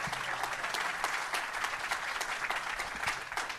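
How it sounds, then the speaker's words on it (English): A crowd at a political rally tour stop in Michigan breaks into warm applause, a continuous ripple of many hands clapping at moderate loudness with no speech over it. "How about a round of applause for Morgan and her team for putting this on?"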